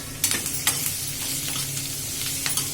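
Chopped ridge gourd sizzling in a pan, a steady soft frying hiss punctuated by several quick clacks and scrapes of stirring, close and without voices.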